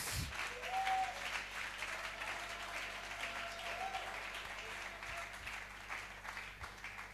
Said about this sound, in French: Qui peut acclamer pour Jésus-Christ?